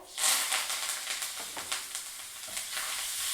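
Asafoetida, curry leaves, roasted gram and peanuts being fried in a few spoons of hot oil in a pan, a continuous close sizzle with soft scraping stirs and small crackling pops throughout.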